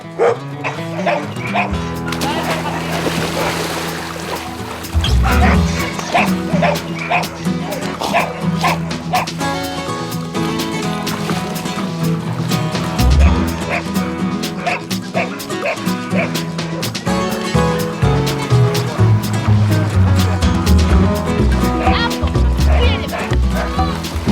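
Labrador dogs bark, yip and whimper repeatedly and excitedly at close range near water, with a person's voice calling to them now and then through the barking.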